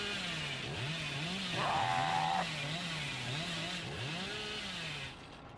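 The Hillbilly's chainsaw in the horror game Dead by Daylight revs in a steady droning whine that rises and falls in pitch, swelling into a sharper burst midway before fading out near the end.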